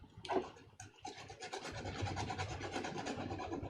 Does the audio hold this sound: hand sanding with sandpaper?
yes